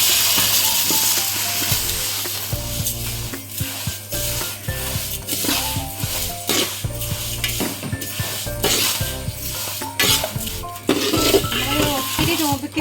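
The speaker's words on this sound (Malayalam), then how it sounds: "നമുക്ക് സേമിയ വറുക്കാം" Vermicelli being fried in a pan for Kerala-style payasam, with steady sizzling broken by frequent scraping stirs and metal utensil clinks against the pan, loud and close throughout.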